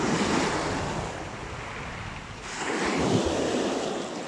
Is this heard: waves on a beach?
yes